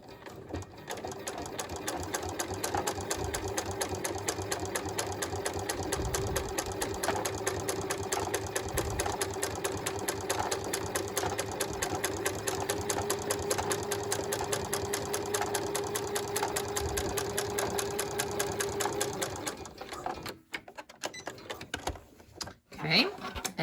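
A sewing machine runs top stitching along the back of a pair of pants, a steady close mechanical whir with rapid needle clatter for about twenty seconds before stopping, followed by brief handling clicks; a voice speaks lightly in places.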